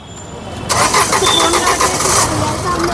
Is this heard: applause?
no